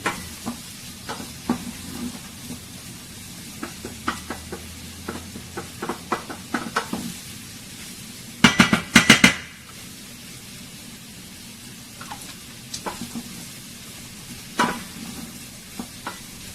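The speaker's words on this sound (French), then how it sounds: "la mangue, l'abricot puisse vraiment cuire avec des crevettes, que ça prenne vraiment le goût, ainsi que les oignons." Shrimp cooking in a pan with mango, apricot and onions over a wood or charcoal fire, with steady faint sizzling broken by scattered stirring clicks and a brief burst of louder scraping midway.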